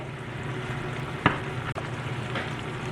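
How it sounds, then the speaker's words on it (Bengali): Fried rohu fish pieces are turned gently in a pan of sizzling masala, giving a steady close frying hiss with one soft scrape or clink, and no one talks. "এবারে খুব হালকা হাতে মাছগুলোকে একটু ওলটপালট করে দেব যাতে মাছগুলো মশলার সাথে একটু ভালো করে মিশে যায়"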